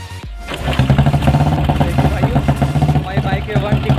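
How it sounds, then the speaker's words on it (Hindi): An old Royal Enfield Bullet motorcycle with a starting problem kicks over after a brief pause and settles into a loud, steady thumping idle up close, with a voice speaking over the engine. "बाइक 1 किक में स्टार्ट हो गई है"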